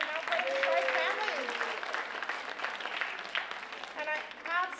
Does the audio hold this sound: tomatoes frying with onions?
no